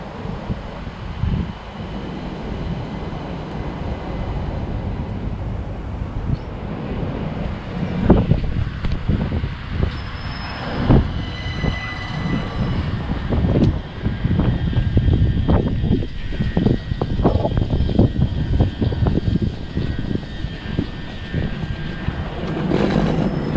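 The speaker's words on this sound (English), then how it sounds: "here we can see our train of the class 357-0 arriving" A c2c Class 357 electric train rumbles into a station with steady low mechanical noise and wind buffeting the microphone, a few faint squeals and clanks rising as it draws close.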